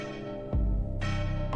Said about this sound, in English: bells rang in empty rooms